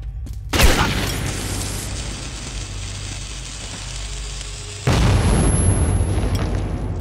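A grenade detonates in Metro 2033 with a sharp, loud bang, followed by a long rumbling roar and then a second heavy burst near the end, no voices over it.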